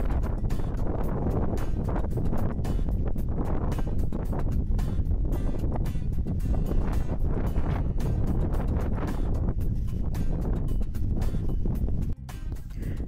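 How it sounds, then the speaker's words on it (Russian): Fierce wind howling into a camera microphone on exposed Gučevo hill in Serbia, a steady, loud buffeting roar with gusty surges that drops briefly near the end. "Ветер жуткий, завывает в камеру."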